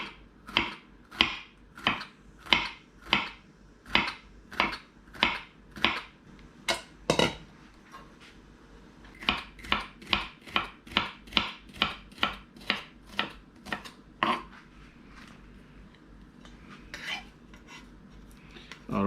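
A knife cuts bitter melon into thin slices on a cutting board, steady rhythmic taps close by, a short pause midway before the even chopping resumes.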